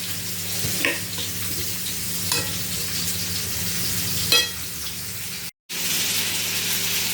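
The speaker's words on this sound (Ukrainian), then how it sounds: "Тут в мене вже цибулька. Трішки зараз підсмажиться." Onion sizzling in a pan gives a continuous close hiss, with a few utensil scrapes and a brief cut to silence near the end.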